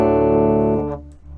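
Electric guitar played through a Mooer Radar speaker cab simulator on its Vox AC-15 cabinet model, a sustained chord ringing out loud and alone, then fading and choked off near the end.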